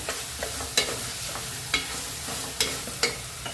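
Cumin and coriander powder are stirred into a sizzling pan of liver masala, with a steady fry hiss and a few crisp spatula scrapes and taps against the metal at irregular intervals.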